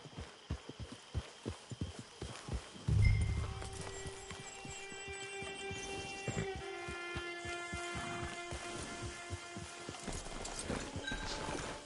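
Hooves of a horse in a console video game clip-clop in a quick, even rhythm, then give way to a low hum and soft, sustained game tones.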